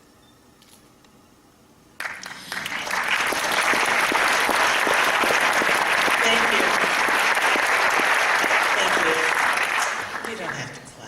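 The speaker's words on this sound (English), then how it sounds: "You don't have to clap." After a quiet pause, a large audience at a poetry reading by a poet at the Paramount suddenly erupts into sustained, full applause that holds steady for several seconds, then fades while the poet briefly speaks.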